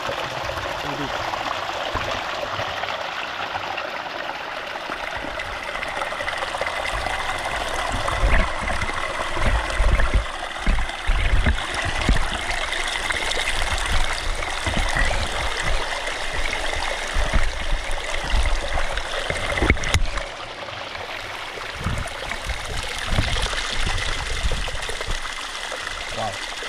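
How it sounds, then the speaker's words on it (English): River water rushes and trickles steadily close by where streams join, with a continuous broadband wash that swells slightly midway and carries on throughout. "we have water coming from all the sections joining this river here"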